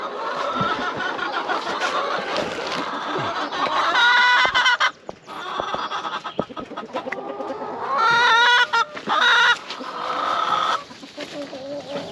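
Chickens cluck and squawk as they leave a mobile coop on a farm, a busy flock of overlapping calls in irregular bursts, close and loud, with one longer run of rising squawks partway through.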